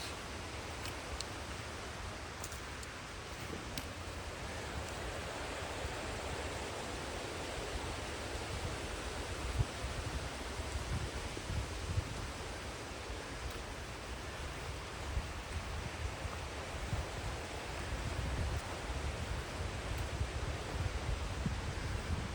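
Steady broadband rush of creek water flowing along a wooded trail near a small footbridge, close and continuous with no talk over it.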